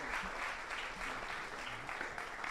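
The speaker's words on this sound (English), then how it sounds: "Please give them a round of applause." Audience applause at a symposium, a continuous wash of clapping held at even strength for a couple of seconds with no voices over it.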